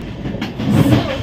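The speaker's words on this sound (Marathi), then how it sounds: "थोडा आवाजाचा डिस्टर्बन्स असू शकतं हे मला माहिती आहे, कारण आपण ट्रेनमधून ट्रॅव्हल करतोय" A train runs on an overnight journey, its loud, rumbling roll and wheel clatter heard close from inside a coach, with a surge of heavier rumble midway.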